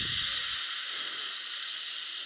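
Water poured into a hot pan of fish-egg curry with potato and spices gives a loud, sustained hiss of steam after a short splash at the start.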